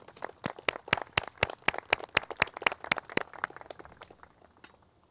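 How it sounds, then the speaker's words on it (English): Sharp, distinct hand claps from a small group honoring parishioners at the dedication of a St. Joseph the Worker statue on a parish campus, steady for about four seconds before thinning out. "let us give a round of applause to all our parishioners and all those who did the work"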